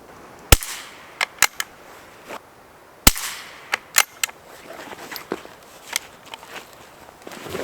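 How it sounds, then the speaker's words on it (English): A Schultz & Larsen Otterup .22LR rifle fires in the woods: two sharp, loud cracks stand out among several lighter snaps and rustling movement, with quiet gaps between them. "Let's go out to the middle of the woods and shoot targets."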